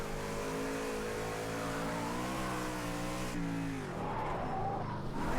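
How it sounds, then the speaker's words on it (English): A race car in Project Cars 2 drones at high revs with a steady engine whine, then the pitch drops sharply as locked-up brakes bite and the tyres scrub and skid, loud and close. "Oh, I keep locking up my brakes."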